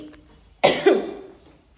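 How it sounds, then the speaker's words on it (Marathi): A single sharp, close cough bursts out of near silence, followed by a brief rough second push that trails off. "कलरमुळे ना असं खोकला आणि घसा खवखवणं खूप होत आहे"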